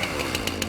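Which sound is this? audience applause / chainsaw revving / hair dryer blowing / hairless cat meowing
chainsaw revving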